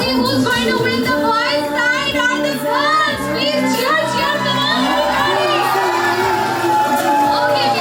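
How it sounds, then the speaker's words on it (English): Festive indoor crowd at a Diwali celebration cheering for the final contestants, with children shouting and whooping in a loud continuous roar close by. "let's cheer everybody."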